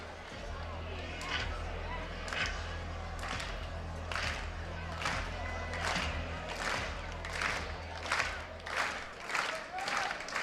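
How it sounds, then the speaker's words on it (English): A college baseball crowd at an Ohio State home game against Michigan claps in a steady rhythmic beat late in the game, the repeated claps and cheering spread across the stands under a play-by-play commentator's voice. "Buckeye crowd getting into it here in the top of the 8th inning"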